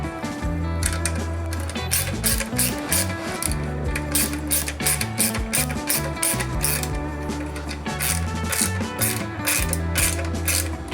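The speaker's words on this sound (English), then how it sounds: "what we're gonna do is tighten down this hose clamp down here first" Ratchet tightening an exhaust hose clamp on a Triumph Daytona 675R motorcycle, rapid close clicking in bursts of repeated strokes, loud and steady with no talk over it.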